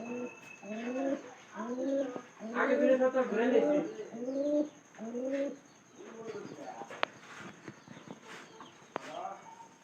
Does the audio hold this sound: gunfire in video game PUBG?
no